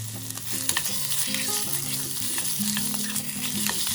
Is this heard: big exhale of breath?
no